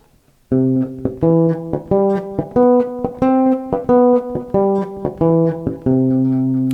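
A melodic electric bass line arpeggiates up and down a chord in a steady bouncing rhythm, with short muted ghost notes slipped between the main pitches, played alone.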